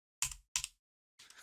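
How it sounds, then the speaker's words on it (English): Keyboard keys mashed during a session of the survival-crafting game The Planet Crafter: two quick, loud bursts of clattering keystrokes close to the mic, a pause, then a softer third flurry. "kind of mashed the keyboard and went into a different view here"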